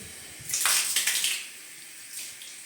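Tap water gushes briefly onto tiles for a rinse, a close splashing rush that swells and fades within a couple of seconds, then a softer second spurt.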